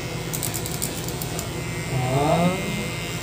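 Electric razor buzzing steadily during a haircut, a continuous close drone with a brief louder stretch as it presses in, while people talk in the background.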